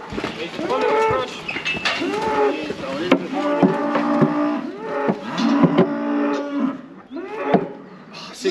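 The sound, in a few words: cattle mooing in a crush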